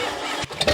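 An old truck engine cranks briefly as it tries to start, a short close whirring churn that cuts out and then sputters again.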